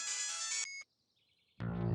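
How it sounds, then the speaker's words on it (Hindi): A mobile phone ringtone plays as a bright, loud melodic tone, breaks off into a thin lingering beep, then gives way to a sudden loud burst of other sound. "जैसे भी तुलसी का फोन आता है भाग जाता है"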